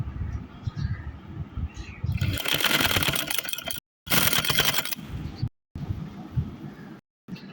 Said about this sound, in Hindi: मैं ऊपर से रख के सीधी साइड से रख के सिलाई लगाने लगी हूँ इसको